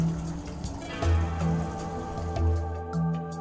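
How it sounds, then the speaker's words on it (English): Cleaning agent is poured into the clean water tank of a B75R floor scrubber, making liquid splashing and dripping sounds over a low steady hum, close with no talk. "Correctly measure the required quantity of cleaning agent and pour it into the clean water tank."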